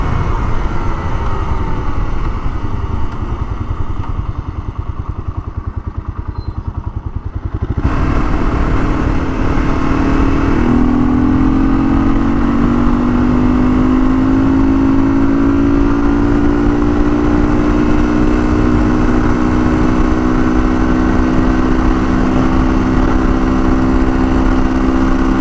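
A Honda XL500 dirt bike, an old single-cylinder machine, fires up after kickstarting and settles into a loud, steady idle with revving that holds close by for over fifteen seconds, with no talk.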